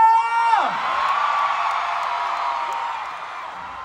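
A large concert crowd at the Araneta arena shouts and cheers in one loud swell that rises, then slowly fades, with a single voice calling out at the start.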